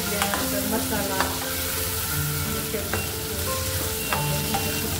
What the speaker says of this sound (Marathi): शेवग्याची शेंग पण त्यात परत छान भाजून घ्यायची